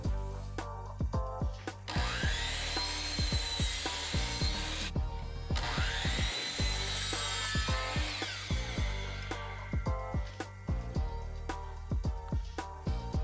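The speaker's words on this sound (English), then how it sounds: "Next, I'll cut out 8 pieces of this fake shiplap." A saw cuts through thin fake shiplap boards, the motor revving up and down through repeated passes with rasping bursts and clicks, loud and close with no talk.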